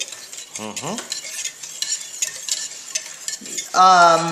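Salt and a quarter cup of oil being stirred into leavened yeast for scratch pizza crust, a steady scraping swish of spoon against bowl running throughout, close and moderately loud, with brief tonal squeaks at the start and a louder burst near the end.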